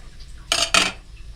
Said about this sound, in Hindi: अब हम इसको ढक्कन लगा देंगे।